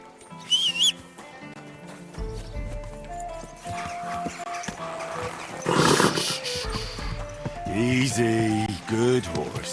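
A horse whinnies and snorts with hooves shifting nearby in the medieval game Kingdom Come: Deliverance 2, loud bursts over a bed of music, with someone speaking briefly.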